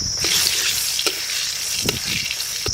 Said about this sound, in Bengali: সর্ষের তেল ফোড়নে দেবো আগে শুকনো লঙ্কা